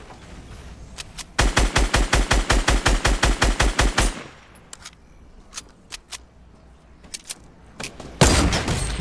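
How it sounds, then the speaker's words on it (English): Gunfire in the video game Fortnite: a rapid burst of about twenty evenly spaced loud shots, then scattered single shots more distant and quieter, and a final loud burst. "I think I heard him shooting over here, right?"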